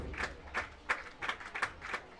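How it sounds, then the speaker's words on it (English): A baseball crowd claps at a Pack the Park night game between the Toronto Maple Leafs and Barrie Baycats, a quiet, distant patter of applause rising in loose bursts for a couple of seconds. "Here comes the crowd on Pack the Park night."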